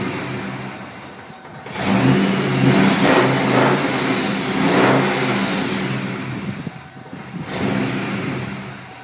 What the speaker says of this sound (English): We have an idle. We have an idle!